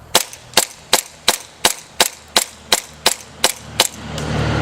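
An airsoft M9 pistol fed through an M4 magazine adapter fires ten sharp, evenly spaced shots in quick succession at close range, followed by a rising hiss of air.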